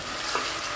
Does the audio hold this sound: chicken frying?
yes